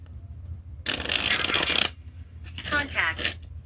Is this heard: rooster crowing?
no